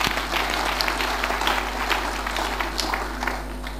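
A church congregation claps hands together after a healing testimony, a dense steady wash of applause that fills the room with a constant low hum underneath and fades slightly at the end.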